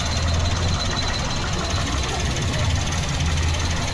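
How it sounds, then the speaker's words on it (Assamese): 2018 Maruti Suzuki WagonR idling with the bonnet open, a steady close low engine hum and light mechanical clatter over the whole stretch, no clear speech. "চাই লওক ষ্টাৰ্ট দি থকা হৈছে, কোনো ধৰণৰ আপোনাৰ এক্সট্ৰা নইজ নাই, ভাইব্ৰেশ্যন নাই।"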